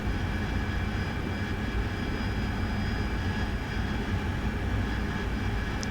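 Steady unbroken roar of an AV-8B Harrier jet flying low over a roadway in a night flight simulator mission, loud and constant throughout with no speech.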